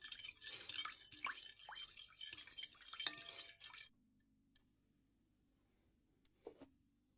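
A fork stirs cookie batter made without eggs or butter to dissolve the sugar, giving a busy run of quick clinks and scrapes against a bowl for about four seconds, then near silence with a couple of faint taps.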